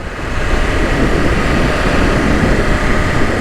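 A 2021 BMW S1000RR superbike engine runs steadily while being ridden, a loud, continuous broadband roar mixed with wind rush that holds at an even level throughout, with no voices.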